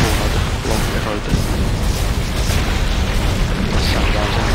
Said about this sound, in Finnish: Tänne minä ammun noita tulipalloja.